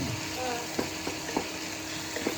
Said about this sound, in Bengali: আর এটা একটু নেড়ে ছেড়ে নেবো এদিক ওদিক। পেঁয়াজগুলো কি লাল করবো নাকি?